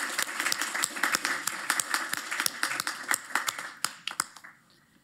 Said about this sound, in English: And a big round of applause for all our finalists and presenters today.